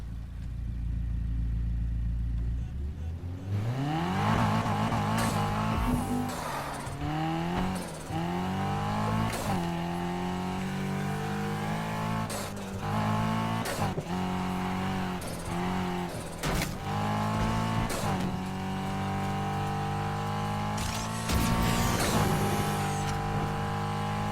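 Dominic Toretto's car in the NFS Heat racing game, its engine revving hard through a string of rapid upshifts, each rising whine cut by a sharp shift, with occasional crackle and tire squeal, loud and continuous.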